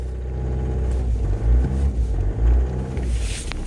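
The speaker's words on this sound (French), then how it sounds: "là j'appuie à fond sur l'accélérateur pour qu'elle tienne" An Opel Zafira 2.0 TDI diesel engine with a cold-start fault revved at full throttle, a loud, close rumbling drone that swells and dips in uneven surges with no talk.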